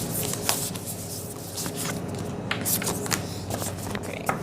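Tarot cards are shuffled and pulled from a deck, a close riffle of papery flicks and slaps in an uneven rhythm, with soft taps between bursts.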